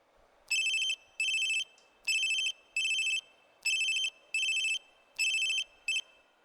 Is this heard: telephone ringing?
yes